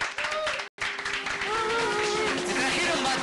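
Applause for the band on a TV show, a dense wash of clapping from the studio crowd that cuts out briefly, then resumes with a tonal musical or voice line running through it.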